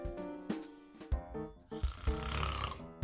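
A sleeping person snores in a slow, steady rhythm of rough, rumbling breaths, heard up close and with no talking.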